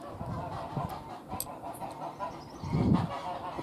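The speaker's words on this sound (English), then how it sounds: "Apologies for the guard dogs, I mean geese." Geese honk noisily nearby in a yard, several loud calls rising in bursts with the strongest cluster near the end, mixed with general outdoor background while a petrol lawn mower is being assembled.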